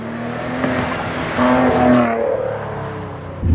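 A 2017 Maserati Ghibli S Q4 engine in sport mode growls and rumbles at low revs, rising briefly in pitch before settling back.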